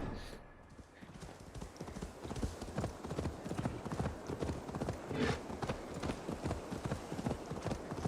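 Horse hooves clip-clop steadily at a riding pace in Assassin's Creed Valhalla, close and continuous with a brief whinny partway through, no talk over them.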